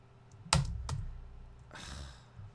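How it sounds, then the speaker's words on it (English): Keystrokes on a small Apple computer keyboard: a few sharp, close clicks with a short burst of rapid typing near the end, over a quiet room hum. "This Apple keyboard's kind of small, but I keep hitting the Alt key instead of the"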